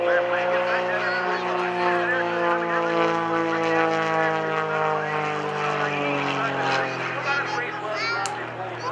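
Aerobatic propeller airplane flying maneuvers at the New Garden airshow, its engine a loud continuous drone with a shifting pitch that holds steady throughout, close and dominant.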